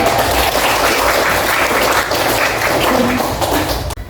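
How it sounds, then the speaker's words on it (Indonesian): A classroom group of students claps for a presenting group, a dense burst of applause that fills the room and holds steady before cutting off abruptly near the end. "Tepuk tangan untuk kelompok."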